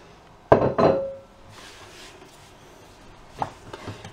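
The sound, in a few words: tipping ingredients into saucepan of chocolate sauce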